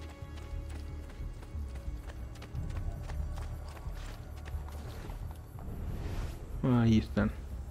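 Horse hooves clip-clop in a fast, steady galloping rhythm in the video game Assassin's Creed 2, with a voice talking over it and a brief tonal call near the end.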